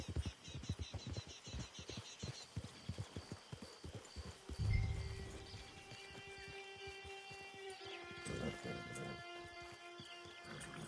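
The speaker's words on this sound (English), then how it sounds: "Hitch your horse." Horse in Red Dead Redemption 2 Online trotting with steady clip-clop hoofbeats, then slowing to a stop with a snort, amid ambient game sounds and faint bird calls.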